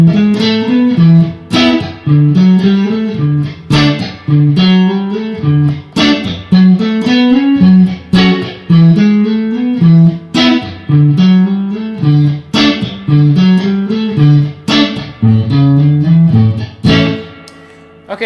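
An electric guitar with a slightly distorted, effected tone plays a riff mixed with chords, a bright, punchy repeating pattern of plucked notes filling the whole stretch.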